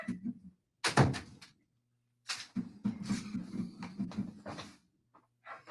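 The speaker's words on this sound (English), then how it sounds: "let me shut that door real quick" An indoor door is pushed shut with a solid thunk and rattle, followed by shuffling, knocks and a few muffled voices in the room.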